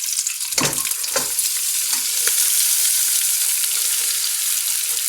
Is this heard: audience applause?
no